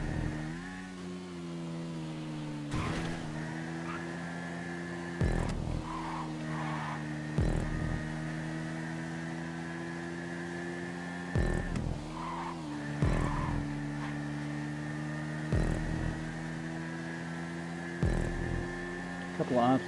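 Race cars in a PS4 racing game on a two-lap course with obstacles, engines droning steadily while tires skid and screech in repeated bursts every couple of seconds, moderately loud and continuous throughout.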